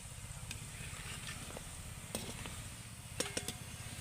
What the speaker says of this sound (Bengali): আমি কিন্তু একদম গোল্ডেন রং করে ভেজে নেব ভালো করে